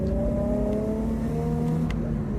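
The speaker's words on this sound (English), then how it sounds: "I can listen for the car and I know when to change up based on the sound that the car would make" A car engine hums steadily at moderate volume, its pitch rising gradually as it revs under load, with no voices present.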